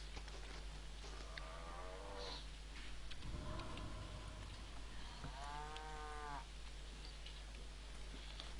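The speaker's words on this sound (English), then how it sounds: "you should never ever attack the calf of a water buffalo" Water buffalo lowing in the Age of Conan video game, two drawn-out moos a few seconds apart over a steady low hum of game ambience.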